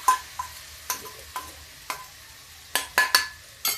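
Spices for chana dal with bottle gourd crackle and sizzle in a hot pan while a spoon scrapes and stirs in sharp, irregular strokes, close up with no talking.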